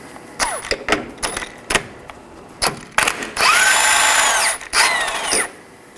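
A power tool with a 17mm socket spins off a jam nut on a 2013-2019 Nissan Sentra steering shaft, sharp ratcheting clicks and brief bursts followed by a longer whirring run, close and loud.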